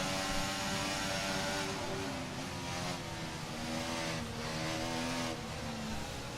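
A Williams Formula 1 car's engine whines at high revs around the Monaco street circuit in the F1 24 racing game, a steady, loud engine drone with shifting pitch as it accelerates and holds speed.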